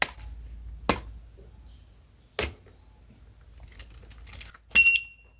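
Sharp knocks and rattles sound at irregular intervals as a locked bicycle is struck, then a brief high electronic warning beep from an ABUS alarm lock at the end, close and fairly loud.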